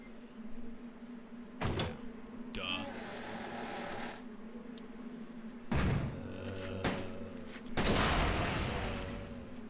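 Gunfire and exploding canisters in Resident Evil Code Veronica X: several loud, sharp bursts and booms separated by quieter stretches, with a voice talking over the game.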